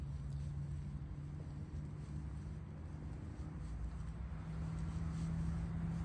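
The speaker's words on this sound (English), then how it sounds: "Vehicle runs smoothly." An idling vehicle engine with a tow package runs smoothly in a steady, low continuous hum with faint wind noise, even and unbroken throughout.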